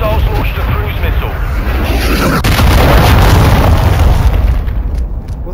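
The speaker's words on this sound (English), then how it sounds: "Hostiles launch the cruise missile." A cruise missile detonates in Call of Duty, a loud, sustained rumbling blast with heavy low-end roar that holds for several seconds before tapering off, with voices talking over it.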